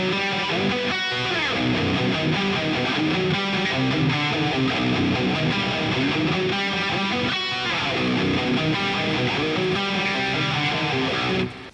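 A riff plays as a fast, dense, heavily distorted death metal guitar line, loud and continuous throughout with brief accented stops and no voices.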